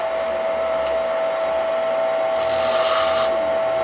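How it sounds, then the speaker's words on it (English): A skew chisel shaves wood on a spinning lathe, a steady close rasping hiss over the constant hum of the motor, swelling briefly louder toward the end. "I'm going to go back with a skew and take a little more off this."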